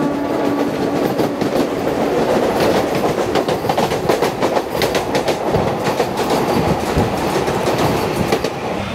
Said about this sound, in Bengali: আমাদের ট্রেন এসে পৌঁছেছে এখন রানাঘাট জংশন